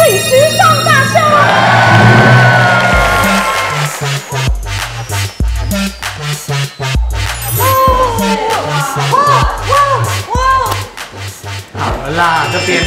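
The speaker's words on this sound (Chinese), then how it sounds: "让我们用最热烈的掌声来欢迎 2021的抓鬼时尚大秀" A studio audience applauds and cheers to open a ghost-themed fashion show on a Taiwanese variety program, loud sustained clapping with whoops and shouts, under music with a thumping beat and a voice over it.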